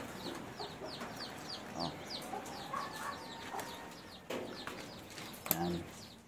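A couple of chickens cluck softly near a goat shelter, scattered short calls over faint outdoor background while a person speaks briefly.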